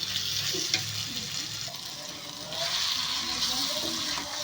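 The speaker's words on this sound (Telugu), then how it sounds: "ఫ్రై అవుతుంది కదండి ఇంకా అయితే మొత్తం ఆయిల్ అంతా బయటకు వచ్చే వరకు ఫ్రై అవ్వాలి" Bitter gourd masala frying in oil in a pan, a steady close sizzle with bubbling, briefly stirred, continuing throughout with no clear speech.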